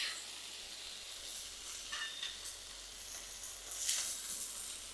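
Burger patties pressed onto a hot griddle sizzle softly, a faint steady hiss with small crackling bursts and occasional scraping, close and quiet with no talk.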